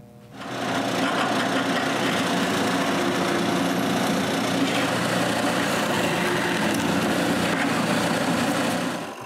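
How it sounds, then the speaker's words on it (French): Power drill boring holes through glued wood pieces with a paper pattern on top, while building a kayak cart; one continuous, steady high whirring drone up close that starts and stops abruptly. "je perce 4 trous. Un à chaque coin du trou que je dois faire."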